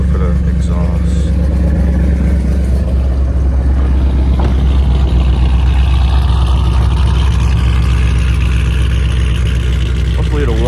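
A 2010 Ford Mustang GT's engine idles loud and steady with a deep exhaust drone throughout, while a person talks over it.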